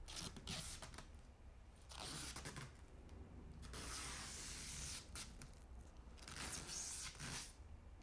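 Protective film peeled in long pulls from laser engraver parts, giving soft, hissing tearing bursts separated by short pauses, fairly quiet and close, with no voices.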